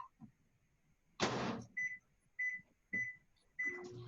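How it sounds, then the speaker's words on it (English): A microwave oven cooking peanut brittle gives a short burst of noise as the door shuts, followed by a series of clear electronic beeps from the keypad in a quiet kitchen. "this is going to go back in the microwave for a few minutes"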